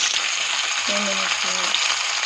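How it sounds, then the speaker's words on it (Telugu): Garlic sizzles in hot oil for tempering with a steady, loud crackling hiss, while a voice briefly speaks over it. "ఫస్ట్ ఆయిల్ వేస్తున్నాను, ఫస్ట్ వెల్లుల్లి వేస్తున్నాను, తాలింపు మీద వేస్తున్నాను"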